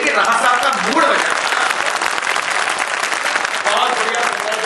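A poetry gathering audience in Ujjain claps steadily, a full, even wash of applause that holds at the same loudness for the whole stretch, with voices faintly mixed in.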